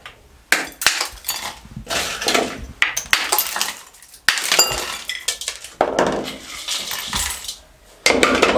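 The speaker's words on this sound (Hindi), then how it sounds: "इसको तोड़ देंगे इस तरीके से, और इस तरीके से इसके अंदर शामिल कर देंगे।" Ice cubes being broken and dropped into a bowl for a banana and date milkshake make sharp cracks and clinking clatters in irregular bursts, close and loud, separated by brief quiet gaps.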